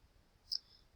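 A single computer mouse click, one short sharp tick heard alone against a quiet background while withdrawing on a testnet site.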